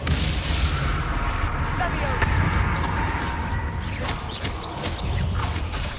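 Spell blasts such as Bombarda and Confringo go off in Hogwarts Legacy combat as repeated thuds and bursts, with a voice calling spell names over the top.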